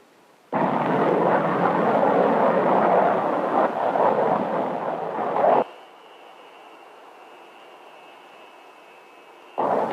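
A Lockheed F-104 Starfighter jet climbs away with a loud, steady broadband roar lasting several seconds, then cuts to a quieter background with a thin high tone before the roar briefly returns.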